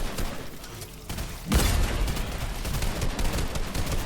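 A weapon fires in a Spider-Man vs Predator video game, opening with quieter rattling and then a loud, sustained stream of rapid shots that lasts to the end.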